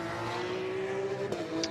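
A Porsche Cayman race car passes during qualifying at Zandvoort, a faint, steady engine whine with a brief sharp peak as it goes by.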